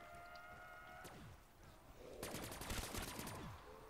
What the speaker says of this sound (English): but it catches fireworks.